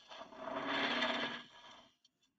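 A woodturning lathe hollows out wood with a Simon Hope Pro Hollower fitted with a small 6mm carbide cutter, giving one continuous close rasping scrape that swells and then fades, followed by a couple of faint ticks.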